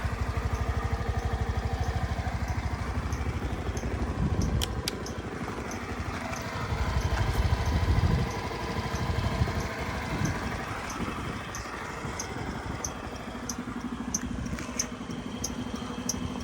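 A 2019 Suzuki Address 125 scooter engine idles steadily nearby, a low even putter with faint clicks and ticks over it, no one speaking.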